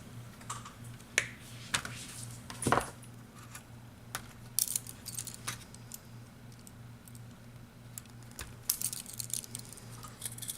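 A cutter snips through the power wires of a Toshiba Satellite laptop, giving sharp isolated clicks and snaps over a low steady electrical hum, with scattered small handling ticks in between.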